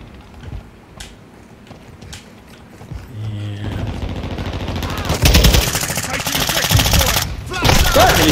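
Gunfire in Call of Duty: scattered single shots early, then dense, loud automatic bursts with mechanical clatter that build and continue to the end.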